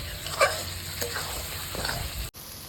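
Potatoes and capsicum are stir-fried in a pan with a steady close sizzle and a few light stirring scrapes. The sound cuts off abruptly near the end.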